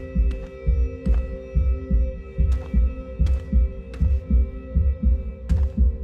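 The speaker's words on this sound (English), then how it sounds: "I set up a system that alternates between 2 heartbeat sounds" A game heartbeat from Stellae throbs in steady, deep double pulses over a constant low hum, about two beats per second, loud and close, with sharp high clicks marking some of the beats.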